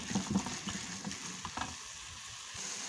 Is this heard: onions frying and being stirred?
yes